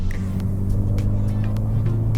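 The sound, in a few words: VW MK6 GTI engine accelerating in fourth gear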